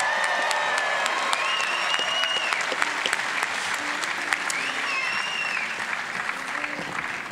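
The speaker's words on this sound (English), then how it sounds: "you can cheer for them" An auditorium audience at a university graduate school hooding ceremony applauds degree candidates, with sustained dense clapping and some scattered cheers and whistles throughout.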